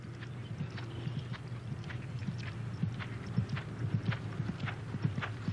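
Steady clip-clop of a Thoroughbred horse's hooves striking the ground in a regular rhythm as it goes through its paces, moderately close and quiet, with no other voices.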